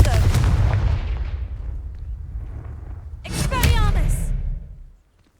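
The Confringo blasting spell in the video game Hogwarts Legacy lands as a heavy booming blast that rumbles away. A second explosive burst follows a few seconds later, with a voice shouting over it.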